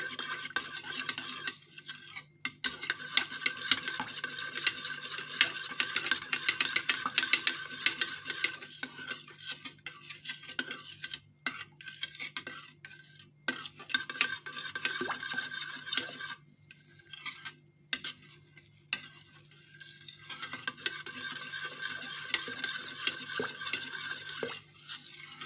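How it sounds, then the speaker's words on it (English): A spatula stirs and scrapes organic base cream lotion in a bowl, producing continuous soft, wet swishing and clicking strokes in an uneven rhythm, close up, with no talking. "So you can also make your lotion if you don't have your emulsion blender."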